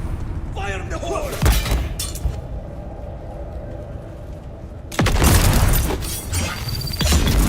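Explosions and crashing debris in the survival game Dune Awakening, two heavy booms several seconds apart with shattering, clanking mechanical noise between them.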